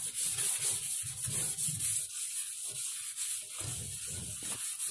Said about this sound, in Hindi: बहुत जल्द छूटेगा रेगमाल जो होता है ना।